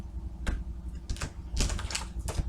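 A tarot deck being cut and shuffled gives a few quick papery clicks and riffles, close and fairly soft over a low room hum.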